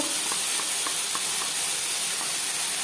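Chopped onions frying in hot oil for a chicken Maggi dish give a steady, fairly loud broadband sizzle and hiss throughout, with small crackling pops scattered across it and no talking.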